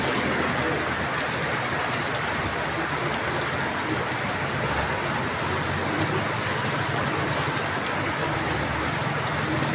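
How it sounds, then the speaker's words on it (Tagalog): Heavy rain pours down steadily, a dense, even hiss of drops that continues unbroken throughout without any pause. "Hindi talaga nakapagpigil yung ulan, talagang bumagsak talaga."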